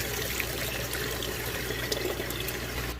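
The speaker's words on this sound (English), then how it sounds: "run your water as hot as you can get it from the tap, and fill your jugs up halfway" Hot water running from a tap into a plastic jug, a steady, dense rush and trickle of pouring liquid close to the microphone, continuous for a few seconds with no voices.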